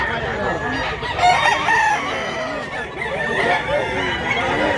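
Black game rooster with a flag-like tail in Mantalungon, Cebu, crowing and clucking nearby in a drawn-out call, with someone talking over it.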